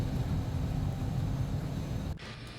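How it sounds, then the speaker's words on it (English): Simulated jet thrust reversers deploy on landing in the X-Plane 11 flight simulator, giving a steady, loud, broadband roar that holds evenly and then drops off abruptly near the end. "Spoilers are open. Reversers are out."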